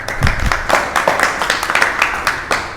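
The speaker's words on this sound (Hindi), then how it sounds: "जो पूरी कमेटी है इसके लिए तालियां हो जाएं" Crowd applauding a Ramlila committee at a community gathering, dense, fairly loud clapping sustained throughout with sharp individual claps standing out.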